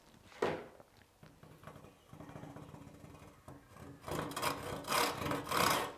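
A hand saw cutting wood along the grain: rasping strokes, faint and uneven at first, then a louder series of rhythmic back-and-forth strokes close by.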